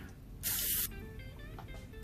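A single short spritz from a spray bottle, a brief bright hiss lasting under half a second over quiet room tone.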